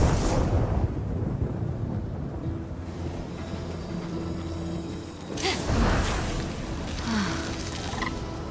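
Thunderous lightning strikes from a hammer in the video game Immortals Fenyx Rising: heavy rumbling crashes over a dense in-game backdrop, with a loud broad burst partway through and a second crack soon after.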